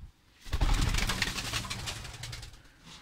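Turtle doves coo close by in a single soft, throaty phrase that carries on for a couple of seconds after a brief quiet start.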